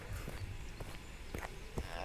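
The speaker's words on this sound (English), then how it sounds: "Oh, that became footsteps," Soft footsteps in the video game Small Island, four evenly spaced muffled steps, faint and close, with a little speech in the background.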